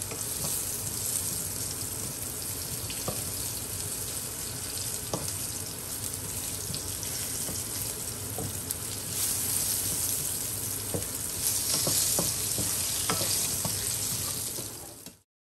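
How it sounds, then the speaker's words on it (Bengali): Onions frying in a pan give a continuous steady sizzle with occasional stirring clicks, moderately loud and close, swelling slightly near the end before cutting off. "পেঁয়াজ আমার ভাজা হয়ে গেছে"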